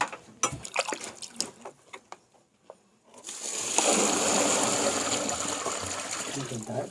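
A bucket of water is poured into a snake burrow in the ground: a few scattered knocks and rustles, then a sudden sustained gushing splash that runs steadily until the end, with possible voices nearby.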